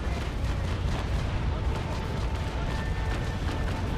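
Ship cannons firing a broadside in the naval video game Naval Action, a dense continuous roar of overlapping booms and rumble, loud and sustained.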